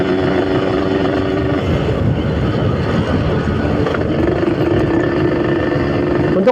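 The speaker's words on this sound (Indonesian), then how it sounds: "Untuk knalpot saya menggunakan knalpot Altec tipe C20. Menurut saya enak, nggak terlalu bising." A Yamaha YT 115cc motorcycle with an Altec C20 exhaust drones steadily at speed during a ride, a continuous engine hum mixed with wind rush that stays loud and even throughout.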